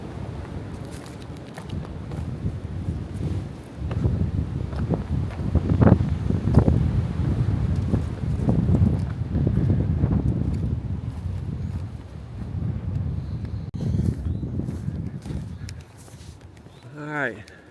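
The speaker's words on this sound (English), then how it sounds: "Get too much of that wind noise" Wind buffets the microphone while hiking along a windy ridge on the Appalachian Trail, a steady low rumble that gusts louder and softer for the whole stretch, with footsteps and brief talk mixed in.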